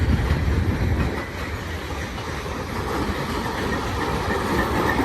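Union Pacific mixed manifest freight train of boxcars, hoppers, gondolas and autoracks rolling past at Cajon Pass, a loud, continuous rumble and rattle of wheels on rail close by, with no voices.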